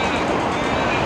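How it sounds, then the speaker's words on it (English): A train on the line near Victoria Park Station in Melbourne rumbles past as a steady, loud, dense roar close by, with a faint high whine running through it. "In fact, that's the train that goes there."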